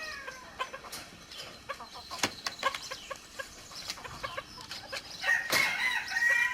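Bantam German Faverolles rooster crowing and clucking nearby, with several short clucks followed by a longer crow at the end, amid light farmyard background noise.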